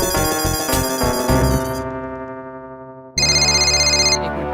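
A loud electronic phone ringtone plays a bright melodic tune, fades briefly, then starts again with a sharp, repeating chime.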